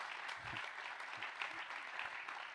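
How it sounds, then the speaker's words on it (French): Audience applause at a French round-table history talk, a soft, steady patter of clapping heard from a distance, with a few low vocal sounds beneath it. "on peut l'applaudir"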